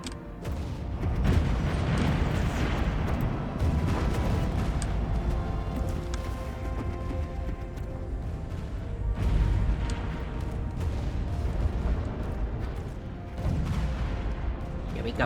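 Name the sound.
artillery firing in a strategy video game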